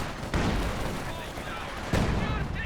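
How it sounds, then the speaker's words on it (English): Double ZiS gun barrage in the Company of Heroes 2 video game, two heavy booming shots about a second and a half apart over a steady battlefield roar, with talking over it. "Now double Zis barrage onto the Raketin"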